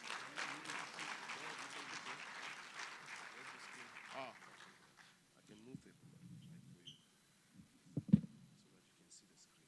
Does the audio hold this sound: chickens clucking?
no